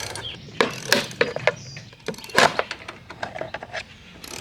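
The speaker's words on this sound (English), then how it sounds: "you're just trying to pop the clip" Plastic trim clips being pried and popped off the roof of a 2023 Toyota 4Runner, a close run of irregular snapping clicks and creaks with scraping in between, no speech.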